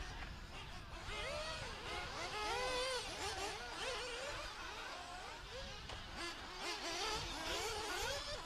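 Electric RC buggies race around a track, their high whining motors rising and falling in overlapping sweeps as several cars pass, steady and moderately distant, with faint voices underneath.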